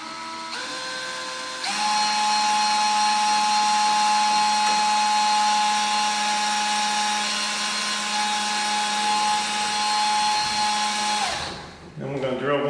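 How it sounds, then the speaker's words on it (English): A power drill whines steadily while boring 3/32-inch holes for pocket door lock and pull hardware, its pitch rising once it gets going and then winding down near the end, loud and close with no voices. "So we're gonna drill our two back holes. These are 3/32 holes."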